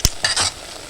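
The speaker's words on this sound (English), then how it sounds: "So the boiling of the rice, we're going to go ahead and stir it up." Stirring rice boiling in a pot: a few brief scraping strokes of a utensil against the pot under a continuous hiss of bubbling water, close and fairly loud, with no talking.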